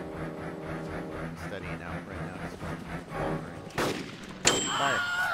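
Gunfire aimed at a helicopter in a video game, quick shots rattling under talk and ongoing game noise, then a sharper burst near the end.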